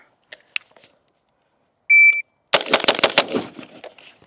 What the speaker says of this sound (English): That was 5 shots.